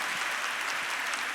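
Loud, steady audience applause at a church women's event, a dense wash of clapping hands sustained without pause through the whole short stretch.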